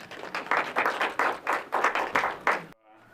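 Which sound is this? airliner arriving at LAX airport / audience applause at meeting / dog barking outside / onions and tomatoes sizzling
audience applause at meeting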